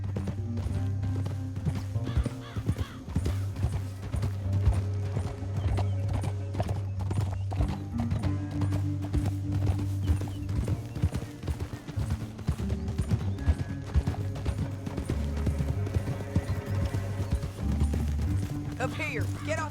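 Horses' hooves clip-clop at a steady gallop in a Red Dead Redemption 2 canyon ride, with occasional whinnies, continuous beneath a musical score and voices talking throughout.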